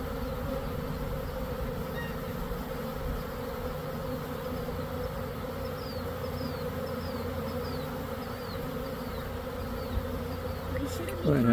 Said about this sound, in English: I had a bee bounce right off my face just then